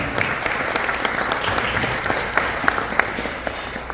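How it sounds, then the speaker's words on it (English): Gala audience in a hall applauding for Rubina Guru, a steady dense wash of many hands clapping at even loudness throughout, with no voices on top. "Give her a big round of applause."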